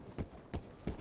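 Horse hooves clip-clop in Red Dead Redemption 2, three evenly spaced, moderately quiet footfalls in about a second, heard alone.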